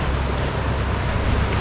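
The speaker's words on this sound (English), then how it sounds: "And it's just like waves hitting." Ocean waves wash against rocks near a boat off the Phi Phi Islands, a steady, dense rush of water mixed with wind buffeting the microphone, with no voices.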